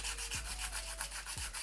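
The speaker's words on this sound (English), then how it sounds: "I'm actually taking the grittier part of the file, and I'm just going to start to remove the nail color" A nail file rasps by hand across gel nail polish in quick, regular back-and-forth strokes, close and fairly quiet, with no talking.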